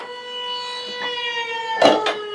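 An air raid siren wails from outside a home kitchen, a steady held tone with a slight pitch rise, with brief clatter near the end.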